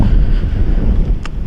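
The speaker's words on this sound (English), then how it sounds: "It is kind of overcast and also kind of windy." Wind blows across an open wetlands boardwalk on an overcast day, a loud, steady low rumble buffeting the microphone, with a brief faint tone near the end and no talking.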